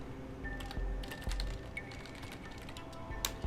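Keys clatter in an irregular run of clicks on a computer keyboard, ending with a firmer press of the enter key; close and fairly quiet, with no talking.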